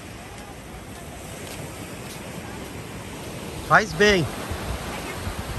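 Surf on Tijucupava beach in Guarujá forms a steady, moderately loud wash of breaking waves, with a brief spoken phrase from a nearby person rising over it near the end.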